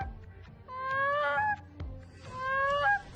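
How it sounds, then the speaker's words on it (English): A young child on the banks of the Waswanipi River is calling in geese, giving honking goose-like calls in two drawn-out bursts over faint outdoor background noise, with no other voices. "calling in the geese"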